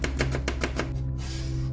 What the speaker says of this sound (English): First cut the onion like this,